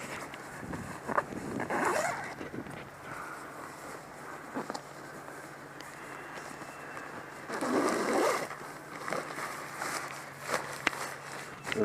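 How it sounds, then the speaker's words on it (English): Zips on a Trekmates Squall bivi bag are pulled open and closed in several quick rasping runs, close by, with footsteps moving around between them. "There's the zips."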